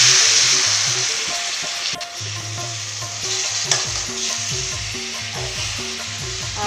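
Tomatoes frying in a pan while being stirred for a rajma dish, with a steady close sizzle and repeated scraping stir strokes throughout, no talking.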